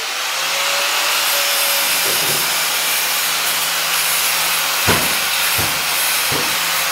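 Steel lockers being ground after cutting and welding in a workshop: a loud, continuous abrasive grinding hiss with a faint whine early on and a few sharp metallic knocks near the end.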